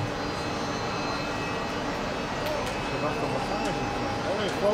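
An airplane engine drones steadily in a continuous hum, with brief higher noises above it and murmured voices in the background.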